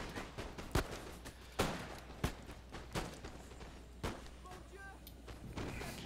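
Musket volleys fire in a Napoleon Total War battle as several sharp, booming reports spaced a second or so apart, some near and some distant, over a low rumble of battlefield ambience.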